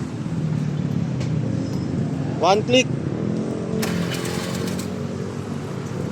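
A Suzuki minivan engine runs at a quiet, steady idle, a low continuous hum up close while someone talks briefly over it.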